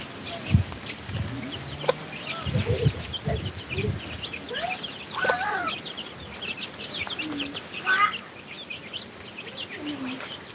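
Young chicks cluck and peep in short scattered calls, some close and some farther off, over a steady background hiss outdoors.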